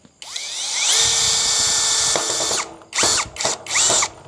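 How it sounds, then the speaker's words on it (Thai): A small compact impact drill rated at 2,000 rpm revs up to a high-pitched whine and holds it, then stops and fires in several short, sharp bursts. "เป็นสว่านไซส์อิมแพกที่ให้ความเร็วรอบมาสูงมากนะฮะ"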